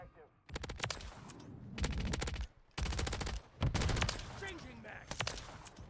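AMR9 submachine gun firing in Modern Warfare 3 multiplayer, several loud rapid bursts of automatic gunfire separated by short pauses, with a player talking over the shots.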